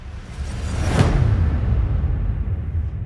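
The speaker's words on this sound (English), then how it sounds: "Whoosh." A loud, airy whoosh effect from a melodic deep house track sweeps in and peaks sharply, followed by a deep, rumbling tail that slowly fades out, with no voices.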